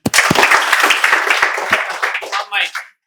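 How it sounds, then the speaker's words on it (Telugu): A classroom group at a spoken English lesson bursts into dense, close applause for about two and a half seconds, the clapping thinning out and tapering off at the end. "Very good. క్లాప్స్."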